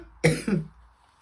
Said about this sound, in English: I've got this bad cough in the last couple of days.